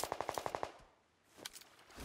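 Gunfire in the video game PUBG Lite, a quick automatic burst of about eight sharp shots followed by a brief pause and a few more scattered cracks, fairly quiet and distant.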